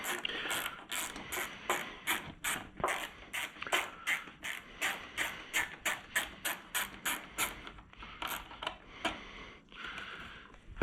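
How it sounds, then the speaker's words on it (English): A hand ratchet clicks in a rapid, regular run while backing out a bolt on a motorcycle during a Garmin Zumo XT wiring install, with a brief pause and resumed clicking near the end; close and fairly loud, no talking. "So I'm gonna remove this bolt right here."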